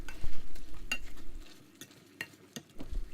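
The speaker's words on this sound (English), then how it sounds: "go ahead and mash it up" Cooked onions for chicken curry being stirred and mashed in a pot, with soft scraping and stirring sounds and light intermittent clinks of a utensil against the pan, moderately close and without talk.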